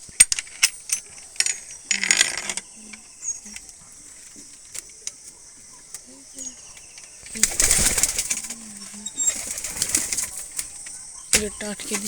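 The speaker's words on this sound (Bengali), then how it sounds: "আমার পায়রাগুলো কিন্তু এখনো বাইরে ছাড়া হয়নি, ওরা খাঁচায় আটকানো হয়ে আছে" Caged pigeons shift and flutter, with brief bursts of wing flapping and scattered soft coos and pecking sounds, close by and separated by quiet stretches.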